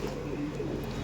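A pigeon coos softly inside a loft, a short, low, burbling call heard close by over a faint background murmur.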